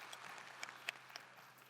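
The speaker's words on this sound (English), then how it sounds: "Applause for Dr. Wang." Scattered, fairly faint applause from a small audience, a steady patter of clapping throughout.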